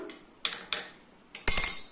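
A spoon clinks and taps against a bowl a few times while mixing eggs with pepper, short irregular strokes ending in a brief scraping rattle.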